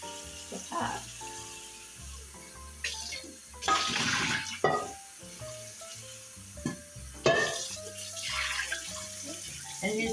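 Water running and splashing while a cooking pot is rinsed out, in loud uneven bursts of spray and gurgle with pauses, under a steady musical background.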